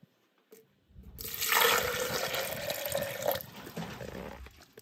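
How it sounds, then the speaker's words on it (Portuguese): Ordinary tap water pours into a container for homemade liquid fertilizer, a loud, steady splashing rush that starts after a second, runs about two seconds and then stops. "Vamos colocar água normal da torneira."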